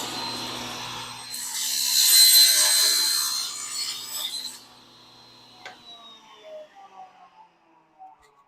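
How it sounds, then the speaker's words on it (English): A table saw cuts a kerf through a box joint jig, a loud whining cut of about three seconds, then the blade spins down and a few knocks follow. "I'm going to cut the kerf through and then do a test cut on a actual box joint"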